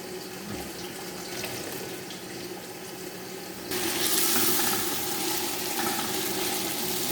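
Running tap water rinses salted, sliced eggplant in a colander to wash out the salt and bitter juice, a steady close splash that grows louder partway through as the flow increases.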